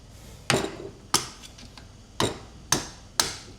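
A hammer striking a car part while working on a '59 Pontiac Catalina Safari Wagon, six sharp metallic blows at irregular intervals, close and clear with short ringing decays.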